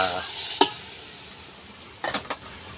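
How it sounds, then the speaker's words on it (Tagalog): A spoon scrapes and clanks a few times while stirring mung beans with pork pieces in a cooking pot, over a steady soft sizzle of simmering, with no talk. "hinikos-nikos para sabay na lumambot"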